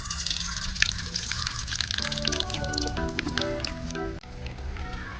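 Mustard seeds splutter in hot coconut oil in a pan with a dense, steady crackle of close pops and sizzle throughout, with faint tonal kitchen noise underneath.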